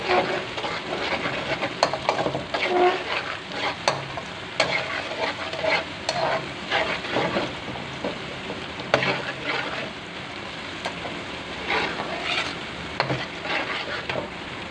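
Garlic sizzles steadily in a hot pan with green onions, with frequent scraping and stirring sounds from a utensil close by; no voices.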